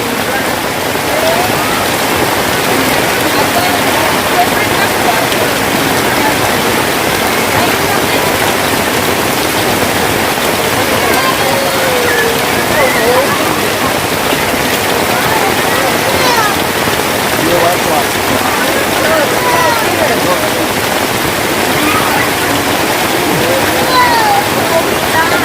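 Heavy rain pours steadily at a spring resort, a loud, dense, unbroken hiss that lasts throughout.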